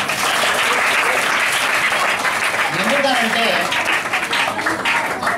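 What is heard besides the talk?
audience and children clapping at retirement function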